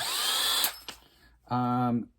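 A power drill bores into a mannequin head being made into a planter, whining in a high buzzing burst, stopping briefly, then revving again in a second steady, pitched whir.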